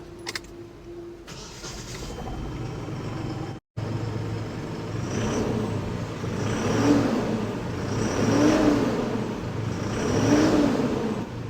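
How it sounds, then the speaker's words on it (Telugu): An Eicher 2049 truck engine cranks to life, drops out briefly, then settles into a steady run with four evenly spaced throttle revs swelling and fading, close and loud. "ఐచెట్ టూ జీరో ఫోర్ అనేది ఒకసారి క్రాంక్ చేద్దామండి ఇంజన్ రిఫైన్మెంట్ ఏ విధంగా ఉందనేది ఒకసారి చెక్ చేద్దాం"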